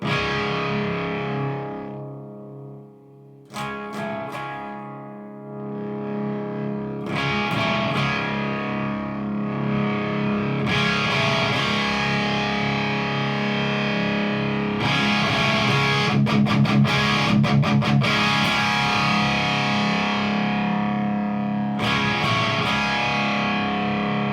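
Electric guitar played through a Westminster Effects Piper Drive V3 overdrive pedal, focused saturated tones with sustained chords, gaps of silence and quick muted strums, loud and alone.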